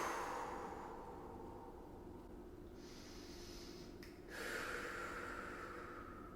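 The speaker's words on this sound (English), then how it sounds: "and 3 breaths on this side." Slow, deep breathing during a full-body stretching exercise: long audible inhales and exhales, soft and close, with a brief pause before the next breath.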